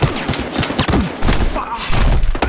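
Gunfire erupts in Battlefield Hardline during a police shootout, a rapid volley of loud, sharp shots and thuds fired in quick bursts close by.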